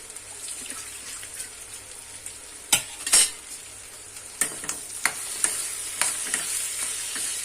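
Soaked flattened rice (poha) is stirred in a frying pan, giving a soft low sizzle with scattered sharp scrapes and clinks of the spoon against the pan, close and fairly quiet, with no talking.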